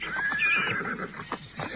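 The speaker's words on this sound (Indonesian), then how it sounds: "tiba-tiba saja tersentak kaget ketika melihat seorang laki-laki berkuda menghampirinya" A horse gives a loud, quavering whinny as a man rides up, followed by a few softer snorting and breathy sounds, close and clear with no talk.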